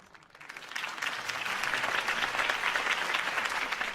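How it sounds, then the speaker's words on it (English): Crowd applause for Harvey Dent's campaign speech in Telltale's Batman game, rising from quiet in the first half second into steady, dense clapping that holds at a fairly loud level to the end. "could have heard that applause"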